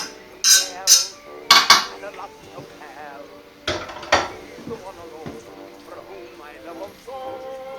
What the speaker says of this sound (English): Mix them all together nicely in the dish